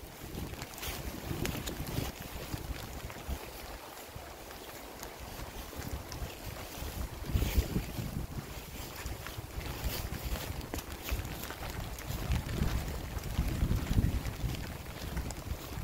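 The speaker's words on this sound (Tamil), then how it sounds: "காற்று வேறு அதிகமாக இருக்குது" Strong, cold wind gusting at a botanical garden in Batumi, Georgia, roaring steadily across the microphone with louder surges, no voices.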